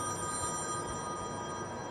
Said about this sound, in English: So he heard a phone call.